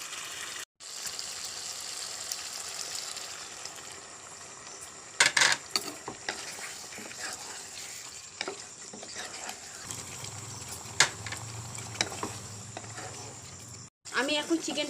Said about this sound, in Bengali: এখন আমি দিয়ে দেব কাজু বাদাম বাটার জলটা, দিয়ে ভালো করে কষিয়ে নেব।